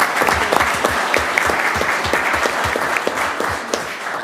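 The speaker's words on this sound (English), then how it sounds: "Let's clap for him." Audience members at a Kaysville city council meeting applaud a departing official, loud close clapping with distinct individual hand strikes in a brisk, uneven rhythm throughout.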